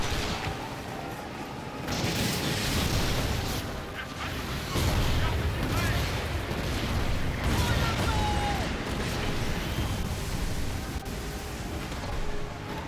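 Ship cannons in the pirate naval game Skull and Bones fire in repeated heavy booming volleys, mixed with rumbling battle noise and overlapping voices.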